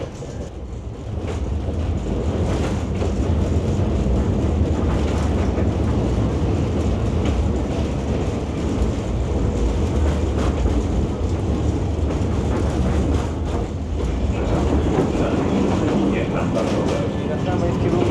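Silesian tram running on rails toward central Chorzów, a steady loud rolling rumble with rail clatter and rattling, while people talk over it.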